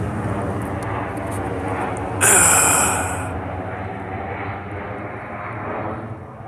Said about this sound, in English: You can hear another plane going over.